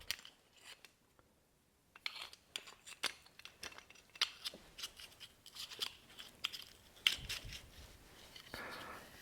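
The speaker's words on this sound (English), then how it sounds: "I'm going to take my tool to cut the sidewall" A hand tool trims the sidewall of a ski during tuning, giving a series of quiet, close scraping and snipping cuts in an irregular rhythm, with faint sounds in the background.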